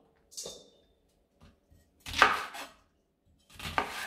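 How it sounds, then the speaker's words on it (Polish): Three separate crisp knife chops through an onion being cut into quarters on a board, spaced about a second and a half apart, close up with quiet gaps between. "Cebulę kroję na ćwiartki lub na ósemki"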